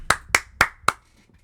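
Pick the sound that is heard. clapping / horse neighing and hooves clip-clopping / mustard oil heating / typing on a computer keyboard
clapping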